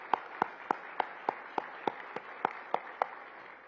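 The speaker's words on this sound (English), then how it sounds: "Let's give a big round of applause here" Audience clapping at a hospitality and tourism summit in Orlando, heard as a soft, steady round of applause with regular sharp claps standing out over a distant crowd, no talking.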